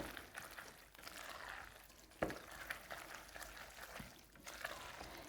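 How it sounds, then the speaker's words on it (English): A spoon stirs a thick lentil and stock filling in a pan, giving soft scraping and wet, bubbling sounds, quiet and close, with one sharper knock partway through. "Give that a stir."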